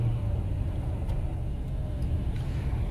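A car engine hums steadily during a driving lesson, pulling in second gear with a low rumble and road noise close inside the cabin, with no pauses.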